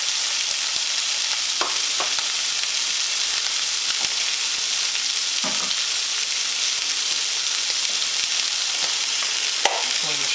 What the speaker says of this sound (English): Throw in your onion.